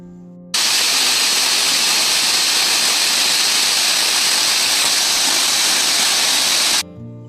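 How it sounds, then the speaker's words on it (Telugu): A waterfall at Siddha Ramappa Kolanu near Srisailam temple roars in a steady, loud, dense rush of falling water that fills the whole stretch, starting abruptly and cutting off near the end. "ఈ వాటర్ ఫాల్స్ మనకి శ్రీశైలం గుడి దగ్గర నుంచి జస్ట్ వాకబుల్ డిస్టెన్స్లోనే ఉంటుంది"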